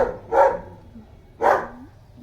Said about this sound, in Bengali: রাস্তা থেকে কুকুর চিল্লাচ্ছে